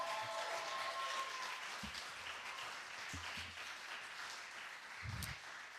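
An audience at a publication celebration for a prize-winning poetry collection applauds steadily, a faint, even patter of clapping with a few brief low thumps.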